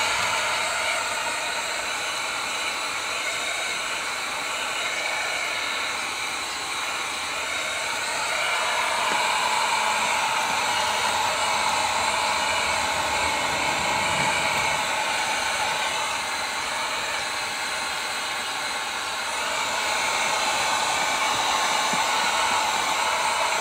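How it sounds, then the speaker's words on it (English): A heat gun blows hot air onto a steering wheel cover in a Pontiac G6 GT Coupe, a continuous close hissing whoosh that holds steady for the whole stretch, rising slightly in strength partway through. "I don't want to leave the heat gun on there too long."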